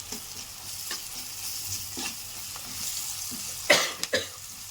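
Ginger-garlic paste sizzles softly in a hot pan, with faint scraping of the stirring spoon and a couple of sharper clatters near the end.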